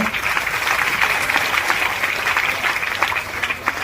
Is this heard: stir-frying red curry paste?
no